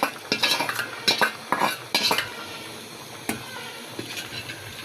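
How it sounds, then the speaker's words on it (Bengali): Crisply fried fish head added to a pan of fish curry, with a burst of metal utensil clatter and scraping stirs against the pan, then quieter faint scrapes and a single knock. "এই যে মাছের মাথা ভাজা ছিল, এই যে কড়া করে ভাজছি, এটা দিয়ে দেবো"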